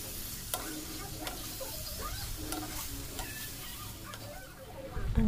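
Potatoes and pork are stirred in a cooking pot with water added, a spoon scraping and clinking at irregular intervals against a soft background sizzle, with a louder scrape at the very end.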